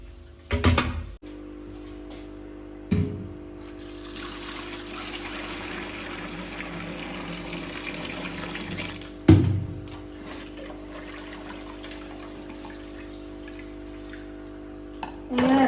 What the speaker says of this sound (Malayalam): ഇനി നമുക്ക് ചോറ് വടിച്ചെടുക്കാം